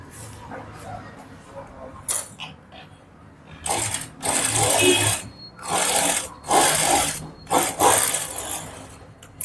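A sewing machine stitches a blouse in repeated loud bursts of rapid mechanical clatter, separated by short pauses, close up.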